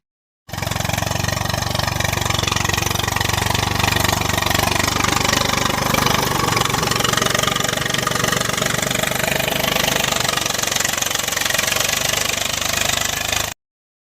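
A farm tractor engine chugs continuously in an open field, a loud, close, steady knocking drone with constant level from start to finish and no talk.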